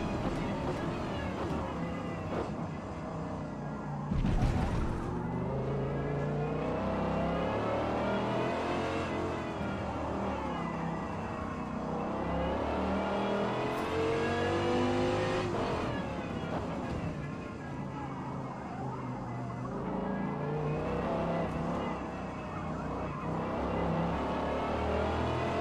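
Dodge Viper V10 engine in a Forza Motorsport racing game, revving hard and shifting through gears on a qualifying lap, a loud continuous roar with rising and falling pitch sweeps; a voice can be heard faintly beneath.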